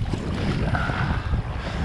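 A strong headwind blows against the microphone while a canoe moves on an open lake in the wilderness. Steady, loud gusts roar and buffet, with a faint wash of water underneath and no talking.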